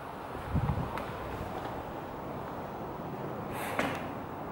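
Broad, steady wind rushes and buffets against the microphone at a former prisoner of war camp, with occasional louder gusts and faint rustling, no speech.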